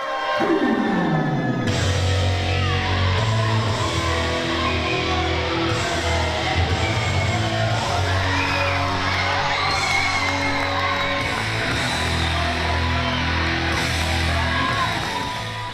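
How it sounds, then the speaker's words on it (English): A wrestling crowd in Mattoon erupts in wild cheering, yelling and whooping, a loud sustained roar throughout with music playing underneath. "with the crowd in Mattoon going absolutely crazy"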